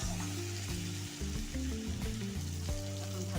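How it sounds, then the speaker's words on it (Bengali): Sliced tomato fries in a pan, a continuous close sizzle and crackle of oil heard alone, with a faint tonal hum running underneath. "টমেটোটা একটু ভালো করে আবার ভেজে নেব।"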